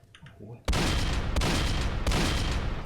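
Gunfire aimed at bandits in the Roblox game Dead Rails: three loud, sharp shots spaced about two-thirds of a second apart, each trailing into a booming echo, after a brief quiet lead-in.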